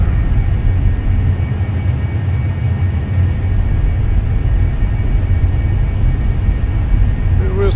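Steady, loud cabin drone of a small airplane in flight on approach to Nassau, a continuous low engine rumble with a faint whine, unbroken throughout.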